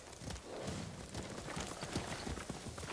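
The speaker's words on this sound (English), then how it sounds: "Horse!" Horse hooves clip-clopping at a steady walking pace in the video game Ghost of Tsushima, soft and close under a low wash of ambient forest sound.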